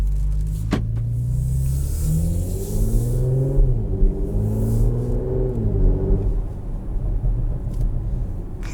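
A 2021 Porsche Macan GTS pulls away with a loud, close engine rumble that rises and falls as it accelerates, steady throughout with no talking.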